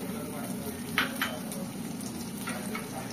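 Chopped ginger and garlic sizzle and fry in oil in a kadai, a steady close crackle with a few brief clinks of utensil on metal, no talk over it.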